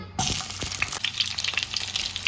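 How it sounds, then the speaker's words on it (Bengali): Pieces of pointed gourd (potol) drop into hot mustard oil in a wok, a sudden loud sizzle that starts abruptly and keeps crackling and spitting close by, with no talk. "পটলগুলো এবার একটু লাল লাল করে ভেজে নেব"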